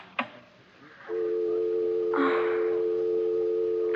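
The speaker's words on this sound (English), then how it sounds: "you'll phone Corey the second I hang up, which is right now" Old-style telephone handling in a 1970s radio mystery drama: a sharp click, then a steady dial tone hums alone, joined midway by a brief rushing burst.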